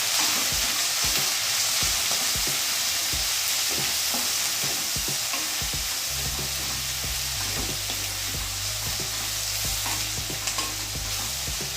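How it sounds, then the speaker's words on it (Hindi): Green chillies frying with salt and asafoetida as a utensil repeatedly scrapes and stirs the pan, then a steadier, louder sizzle settles in over the second half, close and without speech. "मिर्ची को अच्छे से फ्राई करना है"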